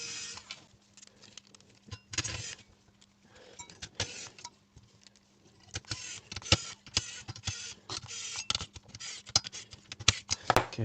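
Small screws being driven back into a Wii U console case, faint scattered clicks and scratchy ticks at close range with brief pauses between them, growing busier and slightly louder toward the end.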